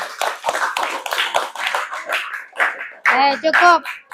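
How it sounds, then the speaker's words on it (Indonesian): A classroom of students clapping together after a lesson, a burst of close, fairly loud applause alongside children's voices and talk, with a short sung or chanted phrase near the end. "tepuk tangan semuanya"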